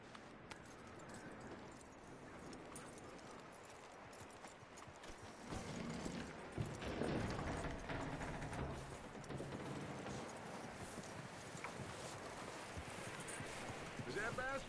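Horse hooves clip-clop in Red Dead Redemption 2, a faint rhythmic plodding that builds slightly midway, with game ambience and occasional voices around it.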